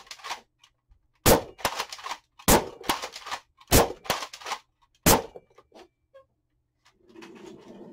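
A toy blaster fires foam darts in four sharp, loud, evenly spaced pops, each followed by brief rattling clatter, then quiet shuffling handling noise.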